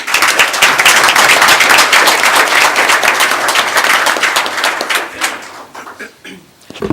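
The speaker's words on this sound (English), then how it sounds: "Please join me in a round of applause and thanks" Audience applause at a township committee meeting: many people clapping loudly and steadily for several seconds, thinning out and fading near the end, with a last few claps.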